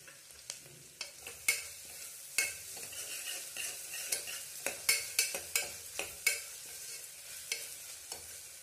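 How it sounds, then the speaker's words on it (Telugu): Ginger garlic paste frying in oil in a pan while being stirred, a soft continuous sizzle under repeated sharp scraping strokes of a spoon against the pan, close up and with no talk. "అల్లం వెల్లుల్లిపాయ పేస్ట్ పచ్చివాసన పోయే వరకు మనం బాగా వేయించుకోవాలి।"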